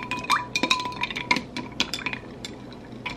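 A spoon stirs an iced chai latte made with oat milk and vanilla in a glass, ice cubes clinking and rattling in quick, bright bursts close by.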